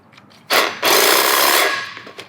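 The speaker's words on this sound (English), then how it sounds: "So here we have a express equalizer that runs off of a DeWalt battery" A battery-powered express equalizer tool running on a DeWalt battery, a loud close whirring burst that cuts out briefly and then runs steadily for about a second before stopping.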